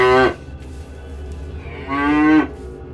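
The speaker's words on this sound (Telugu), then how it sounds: "ఆవు మాత్రం అరుస్తూనే ఉంటుంది." A cow moos twice, loud and close, a long low bellow at the start and another about two seconds later, with a quiet pause between.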